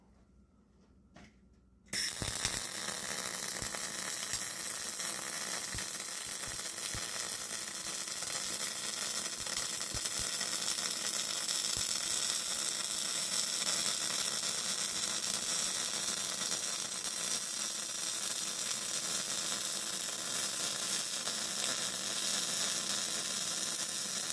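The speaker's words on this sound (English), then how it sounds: "Much better on that second weld." A Riland 250D welder lays a gas-shielded MIG bead. After a short quiet start, a loud, steady crackling buzz starts abruptly and runs without a break for over twenty seconds.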